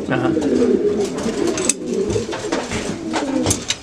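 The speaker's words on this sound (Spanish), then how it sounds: "Esto es un palomo, un palomo viejo ya, un palomo muy arisco." Pigeons in a loft coo in low, rolling throaty calls that repeat and overlap, close and fairly loud, with some human talk mixed in.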